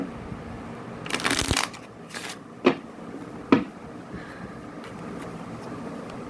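Tarot cards being shuffled and drawn by hand, a short crisp riffling burst followed by a second brief flutter and two sharp card snaps, close and quiet over a low room hum.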